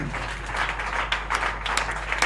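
A church congregation applauding together, a dense wash of clapping that swells in short bursts across the whole moment, fairly close and lively.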